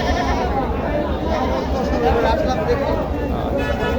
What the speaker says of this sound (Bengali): এগুলো সব জবাইয়ের ছাগল।